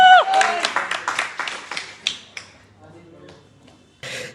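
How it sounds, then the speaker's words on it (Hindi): Audience applause greets a stand-up comedian at a live Hindi comedy show, with dense clapping under a voice at the start. The clapping thins into scattered claps, then a brief burst returns at the end. "एक बार जोरदार तालियां।"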